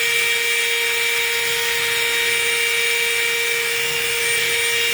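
A wire wheel spins against a glass piece, a steady high whirring hiss with a fixed tonal whine, loud and unbroken throughout, no voices.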